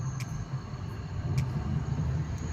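Inside a car climbing a steep uphill road toward Monal in Islamabad, a low, steady engine and road rumble drones continuously, with faint ticking clicks above it and no one talking.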